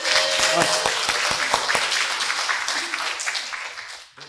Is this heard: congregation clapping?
yes